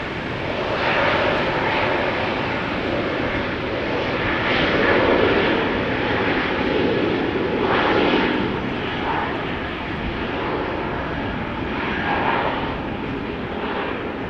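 An Airbus A320neo jet at a rainy, wet Amsterdam Schiphol Airport, a broad steady engine roar with gentle swells in intensity, loud and continuous throughout with no voices.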